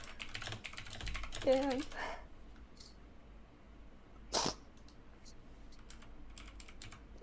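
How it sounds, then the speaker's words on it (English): Computer keyboard typing clatters faintly in the background during a livestream, scattered keystrokes under room noise, with brief talk and a couple of louder bursts. "The typing is really distracting."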